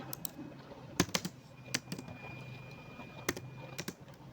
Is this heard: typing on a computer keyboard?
yes